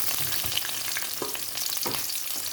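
Onion, garlic and chili are sautéed for shrimp, producing a continuous close sizzle with soft stirring scrapes and no voices.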